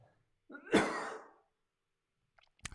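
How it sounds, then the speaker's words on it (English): A single harsh cough bursts out during a live talk on personal development, loud and close with a breathy tail lasting about a second, followed by silence and a faint click at the end. "Excuse me. I had a cough,"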